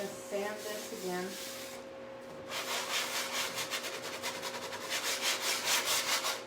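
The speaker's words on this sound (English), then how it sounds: "All right, we're gonna sand this again." A sanding block is rubbed back and forth over a chalk-painted piece of furniture, making close rhythmic scratchy strokes that grow louder and steadier after a brief pause, with speech faintly underneath.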